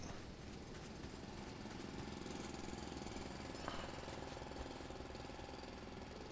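Steady mechanical drilling whirr from a mining drill in the video game Foundry, a continuous buzzing grind that holds even throughout at moderate level with no talk over it.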